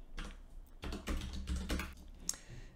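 Bursts of typing on a computer keyboard, entering short words in a coding session, with close, rapid key clatter in several clusters and brief pauses between them.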